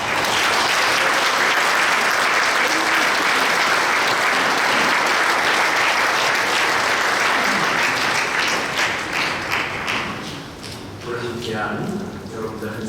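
A forum audience inside Sinchon Church bursts into loud, dense, sustained applause welcoming the pastor of Manna Church; the clapping stays steady for about ten seconds, then thins and fades as a voice begins.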